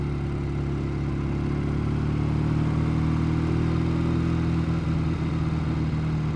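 A Matchless G12 motorcycle engine burbles at low road speed around 20 mph, a steady, loud low-pitched thrum with a slightly uneven pulse throughout, no voices over it.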